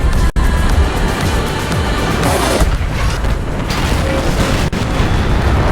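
A tank cannon fires in a tank video game, with a loud boom and rumble that sits in dense, noisy game sound over several seconds and a few sharp transients, with no talking.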